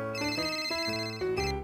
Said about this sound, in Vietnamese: Kìa, ai sẽ nhận điện thoại nhỉ?